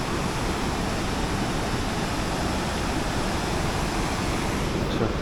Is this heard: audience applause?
no